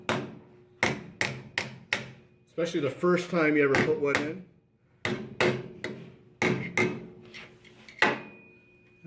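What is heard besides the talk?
hammer tapping a zero clearance bandsaw insert into place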